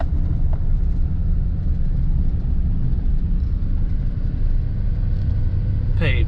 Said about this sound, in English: Gravel road.